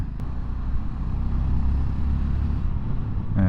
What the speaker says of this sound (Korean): 파르르 하는 그런 나불거리는 배기 소리를 내주고 있습니다.